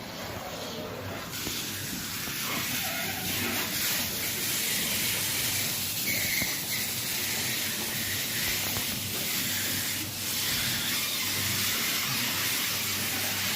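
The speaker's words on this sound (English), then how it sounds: "We'll just wait for the water to flood the tables." Water rushing across the tables of a gold mine stamper battery in Thames, a steady broadband hiss and spray that fills the whole stretch at constant loudness, close and continuous with no talk.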